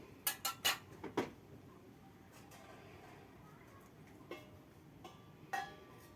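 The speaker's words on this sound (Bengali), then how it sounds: "এবার আমি ঢাকনাটা দিয়ে দেব।" A metal lid clatters onto a cooking pot in a quick burst of several sharp clinks, followed by quieter scattered knocks against a faint background hum.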